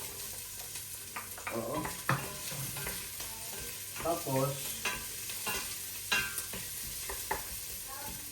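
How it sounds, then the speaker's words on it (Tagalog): Onion, garlic and ginger sauté in a pan, sizzling steadily while a utensil scrapes and stirs in irregular strokes, close up, with a brief spoken word. "ginigisa ko ito muna. Yung sibuyas, siyempre. Bawang at luya."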